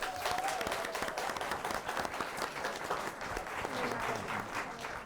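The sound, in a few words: audience applauding a quiz bowl team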